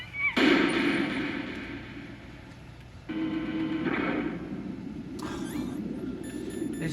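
Metal Gear Solid codec call ringing as a repeated electronic chirping tone in bursts, fairly loud over a steady game background hum.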